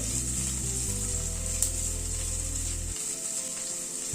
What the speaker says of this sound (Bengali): আদা, কাঁচা লঙ্কা, পেঁয়াজ সবকিছুকে আবার একটুখানি হালকা করে সতে করে নিচ্ছি।